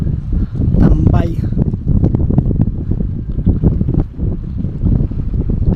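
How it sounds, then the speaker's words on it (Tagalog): Strong gusty wind buffeting a phone microphone at a harbor crowded with boats during a strong northeast monsoon, loud rumbling blasts throughout with a brief voice near the start. "Napakalakas ng hangin, maririnig sa cellphone malakas yung hangin"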